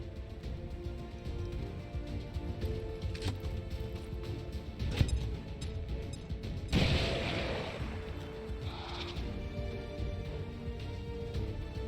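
A frag grenade goes off in XCOM 2, a sudden blast with a broad crackling burst of debris, preceded by a scatter of smaller thumps and shots in a noisy game soundscape.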